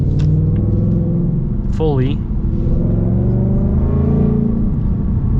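A 2025 Ford Mustang RTR, an 800-horsepower manual car with an X-pipe exhaust, rumbles loudly as the engine revs and climbs, a deep throaty drone heard from inside the car, with a voice speaking over it.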